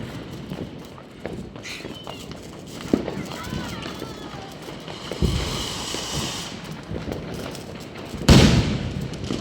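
Diwali firecrackers going off outdoors, a few sharp bangs and crackles scattered over several seconds, one louder burst near the end, with people talking and moving about nearby.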